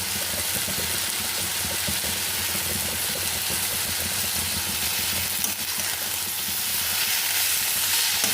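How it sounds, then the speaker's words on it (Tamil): Tomatoes, onions and rock salt sauté in a pan for tomato chutney, giving a loud, continuous close sizzle with faint stirring underneath and no speech. "கல்லுப்பு போட்டு வதக்கலாம். தக்காளி, வெங்காயம் எல்லாம் வதங்கி வச்சு"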